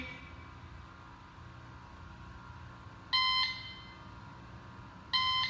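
Two sharp electronic beeps from a shot timer, about two seconds apart, ring out loud and close over a quiet humming background during dry-fire draw practice.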